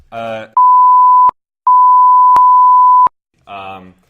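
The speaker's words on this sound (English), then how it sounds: "I'll bleep it out later." Two steady censor bleep tones, each about a second long with a short gap, cover a spoken street address, with brief talk just before and after.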